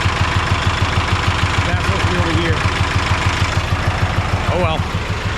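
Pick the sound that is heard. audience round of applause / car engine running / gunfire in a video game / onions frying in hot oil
car engine running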